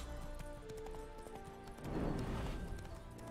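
Hooves clop steadily, then a horse whinnies loudly midway in the video game The Witcher 3: Wild Hunt, with a dense music-like bed running underneath throughout.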